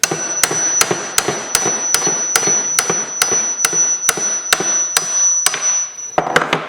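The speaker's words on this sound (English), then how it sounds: "I'm pounding on the actual lever." Steady series of sharp metal hammer blows pounding on a lever to knock sprocket studs out of a cafe racer motorcycle hub, about two strikes per second, loud and close, with a quicker cluster of hits at the end.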